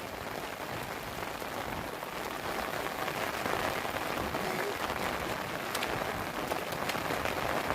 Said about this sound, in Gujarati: આ સાઈડથી વરસાદ ચાલુ થયો હવે સાઈડથી જ આવે છે વરસાદ